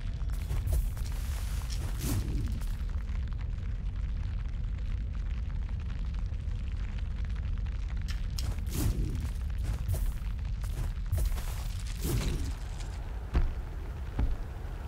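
Cannon fire in a dark action video game booms repeatedly as heavy low blasts roughly every few seconds over a constant rumbling background.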